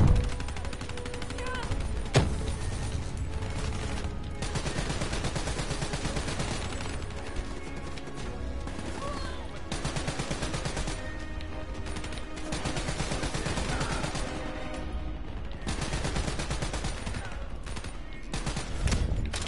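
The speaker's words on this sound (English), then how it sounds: "Me disparan." Sustained bursts of automatic gunfire in a PlayStation 4 shooter game, rapid crackling volleys and sharp shots repeating almost nonstop over about twenty seconds amid loud game action.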